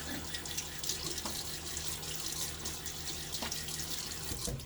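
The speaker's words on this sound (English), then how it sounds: "so a little splash on my face." Water from a running tap is splashed onto a face before shaving. The flow is soft and continuous, with a few faint drips and splashes close by.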